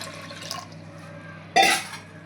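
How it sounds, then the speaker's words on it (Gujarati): Water is poured into a pot of fresh pigeon peas (tuver) set to boil, in a single short, close splash after a quiet kitchen background. "2 પાલા જેવું પાણી રેડી દઈશું"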